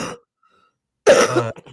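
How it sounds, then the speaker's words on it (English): A short voice fragment, a pause, then one harsh cough with throat clearing, close and fairly loud. "Sorry for my coughing."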